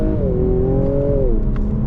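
Loud engine note from a 2022 Infiniti Q60 Red Sport 400 as it downshifts, a steady droning tone that swells then drops in pitch, close and alone with no talk.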